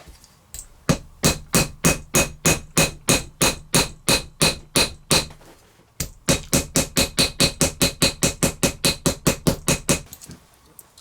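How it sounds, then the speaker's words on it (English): Small leather rivet-setting tools are struck with a hammer to set rivets holding a strap keeper on a handmade leather bag. Two close, loud runs of quick, evenly spaced metallic taps are split by a short pause, with no talking. "I'm just using these little setting tools, and you can set them quite nice and close."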